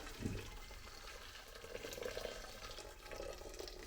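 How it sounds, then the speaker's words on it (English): Boiling water straight from a kettle poured into a saucepan while making konjac noodles, a steady close splashing stream lasting several seconds, with no talking. "I'm going to take my saucepan and I'm going to put some boiling water in there"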